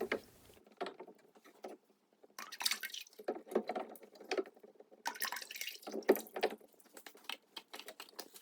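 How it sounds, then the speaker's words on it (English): Liquid clay slip dumped out of an upturned plaster slipcasting mold for mug sections, pouring in uneven bursts with drips and pauses between them, close by. "You just flip over the mold and dump it out."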